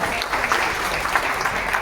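A gathered crowd claps steadily at a Sardar Patel birth anniversary event in Hajipur, a dense, even patter of hands heard close and fairly loud throughout.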